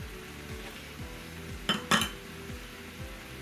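Chicken empanada filling with garlic is tossed in a pan: a low steady sizzle runs throughout, broken by two sharp close metallic clinks of utensil against pan midway.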